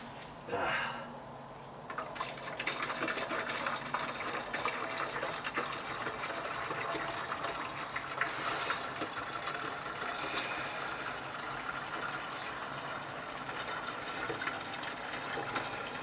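Liquid mold treatment pours from a gallon jug in a steady, continuous gush, close and fairly loud for most of the sixteen seconds, with a short quieter start.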